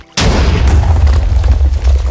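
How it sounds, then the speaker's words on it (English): A loud Minecraft explosion in Doom SMP multiplayer, bursting suddenly from near-silence into a deep, sustained rumble that rolls on for about two seconds. "More explosions?"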